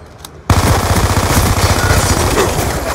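Shooter video game machine gun fire erupting after a brief quiet moment, then sustained rapid loud bursts continuing to the end.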